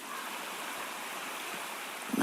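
A waterfall in the video game Wuthering Waves rushes steadily, a constant broad wash of falling water heard close and unbroken throughout.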